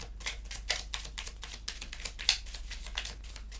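A Love and Light card deck is shuffled in a quick, even run of soft papery flicks, close and fairly quiet, with a faint low hum underneath.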